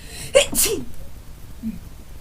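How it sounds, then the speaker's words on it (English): A single sharp sneeze close by, a quick intake then a bright burst, followed by a brief faint vocal sound. "I have to sneeze."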